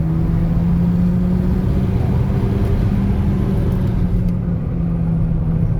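A Volkswagen Golf V GTI accelerating from a standstill, its engine droning loud and steady from close range as the revs climb, with no talk.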